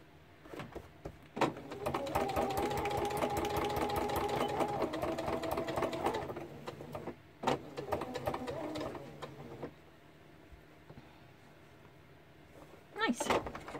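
A sewing machine worked by a foot pedal runs in a close, steady whir for a few seconds, stops, then starts again in shorter bursts, with a little faint background noise around it.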